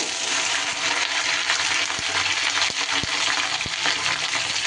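Okra sizzles steadily in hot rice bran oil over high flame, a loud, dense frying hiss with occasional clicks and knocks from stirring in the pan.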